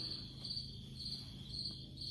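Pet crickets chirp in a steady, fast pulsing trill, faint and continuous, with a low background hum underneath and no voices.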